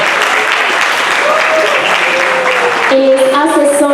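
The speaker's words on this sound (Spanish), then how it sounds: "Fuerte el aplauso para él," Loud, steady applause from an audience welcoming a business panel moderator, filling the room for several seconds, with a voice speaking over the clapping near the end.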